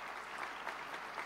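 An audience at a university debate final applauds the organizing committee, a soft, even patter of many hands clapping at moderate distance, continuous across the short stretch.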